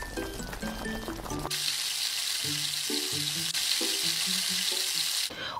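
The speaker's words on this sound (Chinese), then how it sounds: "然后再煎一个豆腐吧。" Tofu fries in a pan with a steady, bright sizzling hiss that starts abruptly and carries on under light background music, cutting off near the end.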